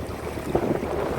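Strong 15 to 20 knot headwind buffeting a small boat in a channel near the Isle of Skye, a steady roaring wind rush with low rumbling gusts and water noise, loud and continuous, no talk.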